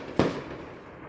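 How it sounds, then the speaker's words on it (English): A single firework burst goes off on New Year's Eve in a bayou neighborhood, a sharp crack followed by a short decaying rumble that fades into low background noise. "I don't know if you can hear them still going off all around"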